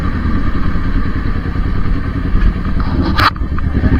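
A motorcycle speeds along a road, its engine a steady loud drone with rattling clatter, close to the microphone and continuous throughout.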